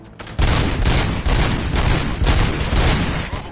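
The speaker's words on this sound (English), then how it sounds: "Gunshots? What's going on?" Sustained, loud gunfire from a shootout in Robocop Rogue City, a dense barrage of rapid shots and bursts erupting after a brief quiet start and continuing unbroken.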